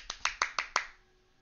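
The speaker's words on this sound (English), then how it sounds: "Who's clapping?" Five sharp claps in quick, slightly uneven succession, close and crisp, then silence, heard inside the video game Man of Medan aboard an abandoned ship.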